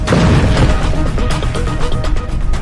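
Artillery cannon fire and explosions in Gaza war footage form a loud, dense barrage of booming blasts and crashing bursts, one after another with no pause.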